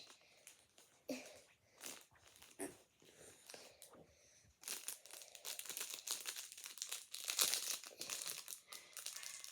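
Crinkly plastic crackles and rustles in bursts, sparse at first then continuous and louder, as a package is handled and pulled open up close.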